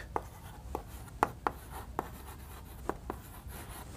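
Chalk or a marker taps and scratches across a classroom board in short, irregular strokes, close and fairly quiet, with no talking.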